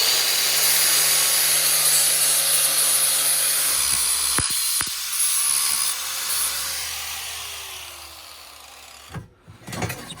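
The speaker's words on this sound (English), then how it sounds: "So I'm gonna have to sand down to get a clean surface and weld that." Sanding tool grinding metal down to bare surface ahead of welding, a steady loud rasping whir that runs continuously for about nine seconds, then fades and stops with a couple of short bursts near the end.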